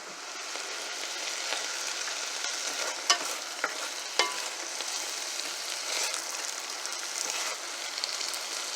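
A thick zucchini and V8 juice mixture is stirred in a pan, giving a soft continuous sizzling scrape with a few sharper clicks of the utensil against the pan. It is close but quiet, and no one speaks.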